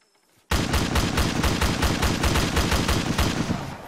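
Rapid automatic gunfire in a video game convoy mission, a loud, dense burst of shots starting abruptly and continuing steadily with no talking.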